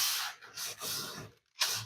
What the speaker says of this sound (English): Let's just hit it with just a little sandpaper. And I'm just using 220.